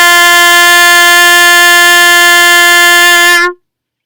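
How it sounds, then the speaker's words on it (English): A trumpet holds an open G with no valves pressed: one steady, bright, loud note sustained for about three and a half seconds and then cut off cleanly, heard alone. "Now this is G, and it sounds like this."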